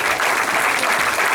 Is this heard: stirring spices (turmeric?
no